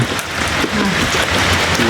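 Steady rain pouring down, a dense hiss of drops hitting surfaces nearby, with a faint voice briefly underneath.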